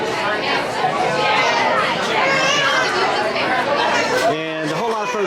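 A lounge full of people chatters at a cruise ship meetup aboard the Disney Wonder on an Alaska voyage: a continuous, busy murmur of many overlapping voices, with one nearer voice rising out of it near the end.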